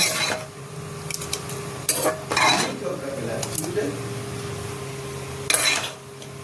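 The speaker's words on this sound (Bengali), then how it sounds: "বেগুন আলু দুটোই সিদ্ধ হয়ে গেছে, একটু মিলিয়ে নেব।" A spoon scrapes and knocks against a pan while boiled eggplant and potato curry is stirred together, in a few irregular bursts of clatter over a low background hiss.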